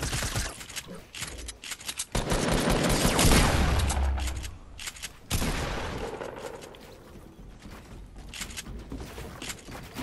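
Loud bursts of gunfire in a shooter video game, coming in several heavy volleys with short gaps between them, with a voice talking over parts of the action.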